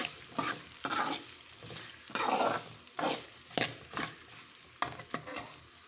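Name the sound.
chopped onions and tempering seeds frying and being stirred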